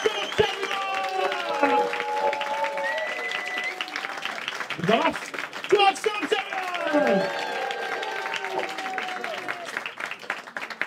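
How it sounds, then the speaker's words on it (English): Audience applause at a live stand-up comedy club in Liverpool, steady clapping and cheering from the crowd lasting the whole stretch, with voices and shouts mixed in. "can you start with a round of applause?"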